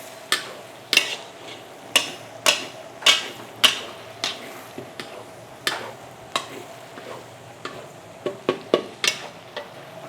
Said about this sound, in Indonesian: kita tumis dulu sebentar aja buat ngeluarin aroma si jahenya